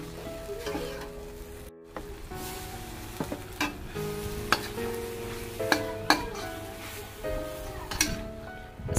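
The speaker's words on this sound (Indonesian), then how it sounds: "Sekarang saya mau lanjut tumis bumbu-bumbunya biar wangi." Spices sauté in a pan in a village home kitchen, with a continuous close sizzle broken by repeated scraping stirs and light utensil clinks against the pan.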